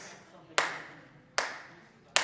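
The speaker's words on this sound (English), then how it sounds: "both of these claps are now half notes" Three evenly spaced hand claps ring out in a slow half-note rhythm, each a sharp crisp slap with a short decaying tail, in a quiet room.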